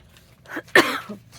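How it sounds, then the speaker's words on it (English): A single short, sharp human cough, close and alone in a quiet room, with a faint breath before it. "I hate coughing"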